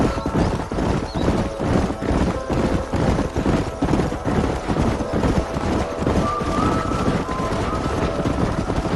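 Herd of horses galloping in a canyon in Red Dead Redemption, loud rapid clip-clop of many hooves with a whinny partway through and voices among the rumble.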